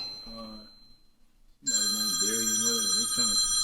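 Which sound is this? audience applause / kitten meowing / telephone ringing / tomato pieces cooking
telephone ringing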